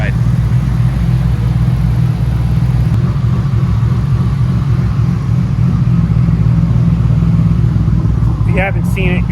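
A Nissan Skyline driven hard on all-wheel drive gives a loud, continuous low engine rumble and drone from inside the car, with faint chirps near the end; someone talks over it.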